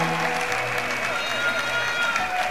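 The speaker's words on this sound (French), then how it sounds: "applaudissez fortement le Seigneur" A church congregation applauding during worship, continuous clapping from the crowd over a sustained voice or tone, with cheering mixed in and a constant, fairly loud level throughout.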